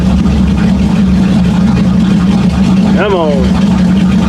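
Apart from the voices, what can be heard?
1979 Chevy K20 engine idling near 1,000 rpm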